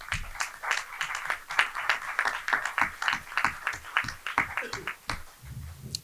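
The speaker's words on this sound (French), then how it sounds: "vous invite à les saluer par nos applaudissements" Applause from those attending a municipal council meeting, a moderate burst of clapping with uneven rhythm that rises and fades over a few seconds in a room.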